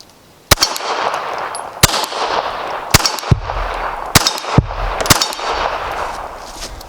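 Sharp pistol shots from a Wilson Combat EDC X9 with a Romeo 0 red dot sight, about eight loud reports fired at an uneven pace, each cracking out against a steady outdoor background.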